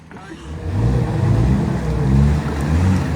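An off-road car's engine rumbles and revs loudly nearby during an off-road competition, a continuous low drone that builds after a brief quiet start.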